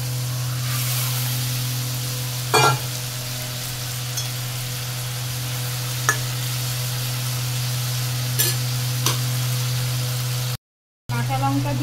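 Pieces of hilsa fish frying in hot oil, a steady sizzle over a constant low hum, with a few sharp clicks and a brief dropout near the end.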